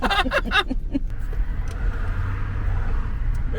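A car drives along, heard from inside the cabin as a steady low rumble of engine and road noise, with brief voices and a snicker at the start.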